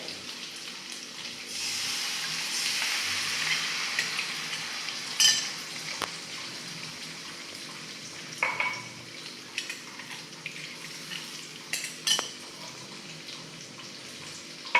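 Gram flour batter hits a hot oiled pan with a sustained sizzle, followed by intermittent scraping and stirring clinks as the mixture is worked, close and fairly loud with no talk.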